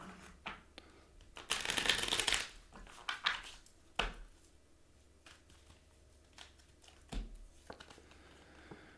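Tarot cards shuffled by hand close up, with a dense riffling burst and then scattered softer card taps and slides in a quiet room.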